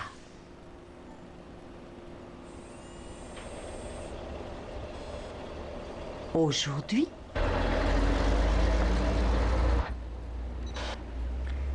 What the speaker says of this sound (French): un camion poubelle vient vers nous.